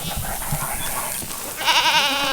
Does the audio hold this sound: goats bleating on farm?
yes